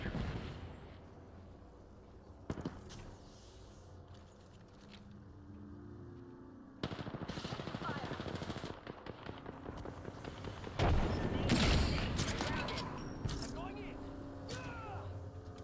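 Gunfire and explosions in the battle-royale video game Apex Legends, with bursts of shots and blasts that swell toward the middle and end, mixed under steady talk from a player.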